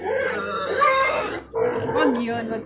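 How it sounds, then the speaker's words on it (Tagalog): Pigs grunt loudly and repeatedly at close range while a person talks over and between the animal sounds. "Ito ang tinutukoy ko ay baboy."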